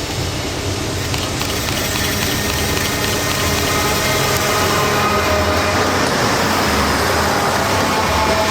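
A loaded coal train rolls along the TC line at Frisco, a steady loud rumble and rail roar that holds evenly throughout with no voices.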